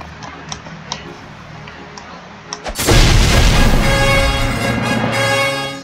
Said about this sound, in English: try to kill him with my bomb